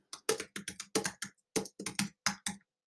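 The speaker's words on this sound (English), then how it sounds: "if I start typing here" Keys clatter on a computer keyboard in quick bursts of close, crisp taps, with brief pauses between runs, no voices.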